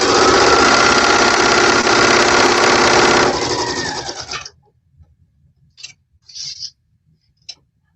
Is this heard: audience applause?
no